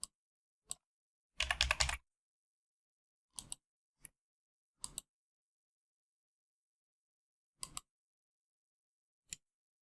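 Keystrokes on a computer keyboard while entering text into website-building software, sparse single taps and one quick burst of rapid typing, close and fairly quiet with long silent gaps between.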